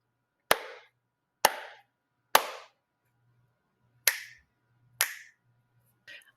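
Three sharp hand claps come in quick succession, followed by two crisp finger snaps and a fainter final snap, each isolated with silence between and no talking.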